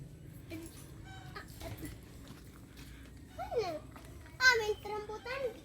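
Chickens cluck in short bursts nearby, over a murmur of people and someone talking in the background.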